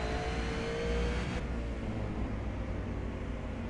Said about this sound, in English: You can hear the engine rev there as he looks to be heading out of the stall now and back out onto the track